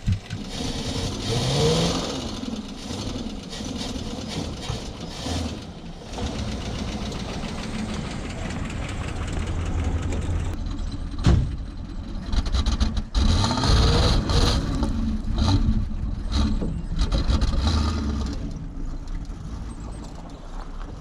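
A 1965 Plymouth Fury II Mopar wagon engine runs with a rough, knocking idle, then revs and rumbles louder as the car is driven into a shop, close and continuous with no talking.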